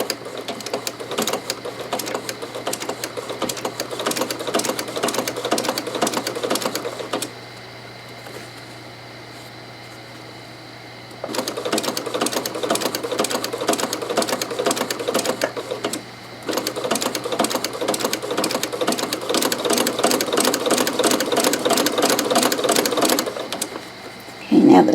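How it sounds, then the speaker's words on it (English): A sewing machine stitches a pot holder into a glasses case with a quick backstitch, loud rapid needle chatter in long runs broken by a few seconds of quiet, no talk. "I do want to backstitch just a couple stitches."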